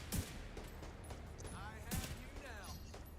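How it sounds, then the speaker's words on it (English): Gunfire from a sniper turret in a video game: two sharp shots about two seconds apart over a busy bed of game noise, with faint voices in the background. "That's a sniper turret, isn't it?"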